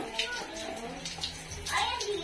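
Hot water from a newly installed OOKAS water heater runs from a shower, a steady hiss of flowing water with excited voices talking over it nearby.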